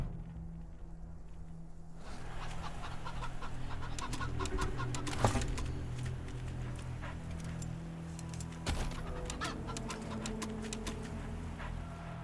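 A chicken in the post-apocalyptic video game Wasteland 3 clucks in short, sharp bursts over a steady low background hum, with a few louder squawks scattered through the stretch.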